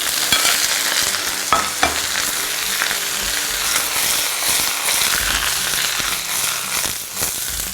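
Cabbage hits hot rapeseed oil in a wok with ginger, garlic, scallion and chili, a steady loud sizzle with scraping stir-fry strokes throughout.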